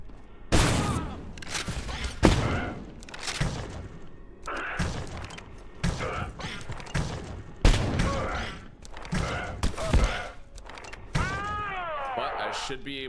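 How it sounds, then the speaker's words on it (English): Automated turrets firing in the video game Abiotic Factor, irregular bursts of shots and heavy thuds spread across the scene, with a person talking throughout. "there's automated turrets here."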